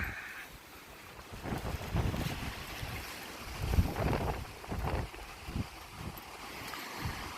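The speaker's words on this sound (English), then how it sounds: "it's still some 20-mile-an-hour wind gusts" Strong wind gusts buffet the microphone on a beach after a hurricane, loud and surging in waves with rumbling low gusts throughout, no talk.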